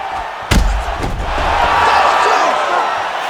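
In a UFC video game bout, a sharp impact thumps on a knockdown, then a loud crowd roars and cheers continuously, with a commentator's voice briefly mixed in.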